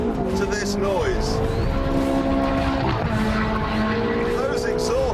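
A Ferrari 430's high-revving engine and exhaust roar loudly with shifting tones as the revs rise and fall, and a voice is faintly audible underneath.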